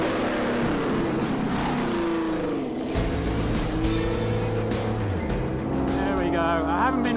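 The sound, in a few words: 1961 Ferrari racing car engine running on track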